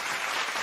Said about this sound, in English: Clapping noises.